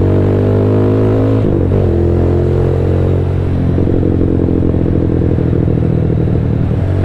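A motorcycle fitted with an Orion aftermarket muffler idles loudly and is revved several times outdoors, its deep, throbbing exhaust note rising and falling close to the listener with no talk over it.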